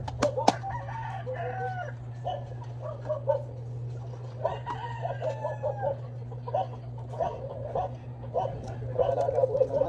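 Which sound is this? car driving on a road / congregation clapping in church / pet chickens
pet chickens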